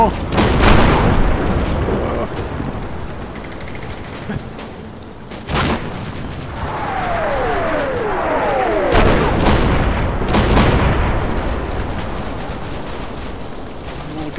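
Gunfire and heavy booms from a World War II battle in the video game Combat Mission Battle for Normandy, loud repeated blasts and crackling shots rolling over a continuous battle din, with someone talking over parts of it.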